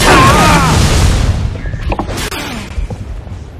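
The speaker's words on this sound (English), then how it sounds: "Bomb detonated." A bomb detonates in Halo: Reach with a loud, close boom that rolls off into a fading rumble over a few seconds, followed by small scattered clicks.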